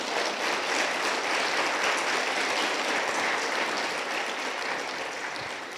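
Steady, dense applause from a church congregation cheering during a Spanish-language worship service, loud and continuous throughout, easing off slightly near the end with no talking over it.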